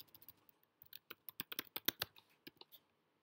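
A password typed on a computer keyboard, with a quick irregular run of soft close key clicks that speeds up in the middle, then a short pause and a few final taps, in an otherwise quiet room.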